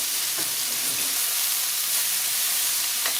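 A soft, steady sizzle of a stir-fry of vegetables and chili peppers in a hot pan, with faint stirring scrapes, lasting a few seconds with no talk.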